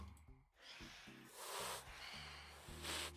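A cat in the Minecraft video game lets out a few short, breathy hisses in quick succession, soft and fairly close, with no talking over them.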